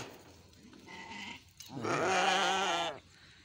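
A goat bleats once, a loud, wavering cry lasting over a second, after softer calls and rustling in a date orchard in Madinah.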